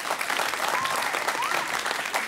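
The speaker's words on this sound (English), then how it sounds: "Big round of applause for both schools." Steady audience applause fills the hall at a high school quiz competition, broad and continuous clapping at a constant loud level throughout.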